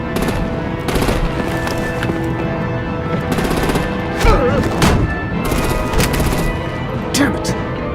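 Gunfire in the Batman: The Enemy Within video game, a loud burst of rapid automatic shots and scattered impacts that runs steadily through the whole stretch and rises in a few sharper spikes.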